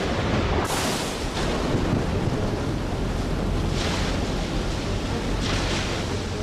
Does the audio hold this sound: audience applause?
no